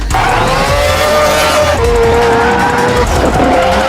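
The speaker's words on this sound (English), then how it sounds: "the rotary engine sounds really, really nice" Mazda RX-7 rotary engine car driving, a loud, continuous buzzing drone with a steady tone that dips in pitch a couple of times, sounding close and dominating throughout with no talking.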